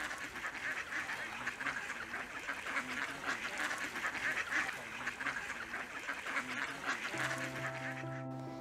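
Ducks quack repeatedly in a busy, overlapping chorus nearby in a park, with a few honking calls mixed in and a faint outdoor background.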